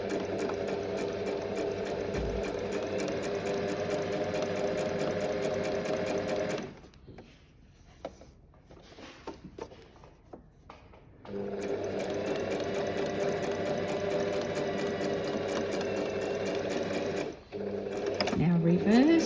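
A sewing machine running in steady bursts while sewing reverse stitches on a crochet pouch, its rapid close whirring stopping in the middle for a quiet pause with small clicks, then resuming.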